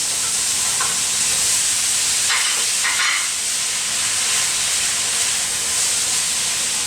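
Beans tipped into a hot pan while cooking a quinoa veggie blend give a steady, close hiss of sizzling that runs throughout, with a few brief brighter crackles partway through.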